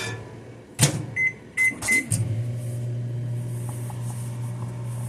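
A few clicks and beeps, then a microwave oven hums steadily as it runs.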